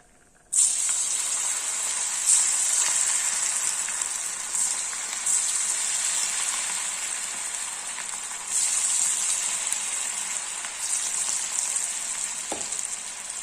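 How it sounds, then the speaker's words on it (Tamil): Steady loud sizzling of cauliflower frying in hot oil, a continuous crackling hiss with no talking. "நம்ம இப்போ வந்து காலிஃப்ளவர் பொரிச்சு எடுத்துடலாம்"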